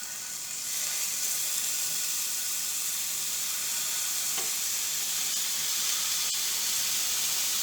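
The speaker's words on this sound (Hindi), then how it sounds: "इस पे हम ये सेट किए हुए सभी स्क्यूज़ रख देंगे।" Chicken boti kabab skewers laid on a hot, lightly oiled pan: a loud, steady sizzle starts within the first second and holds evenly throughout, close up, with no talking.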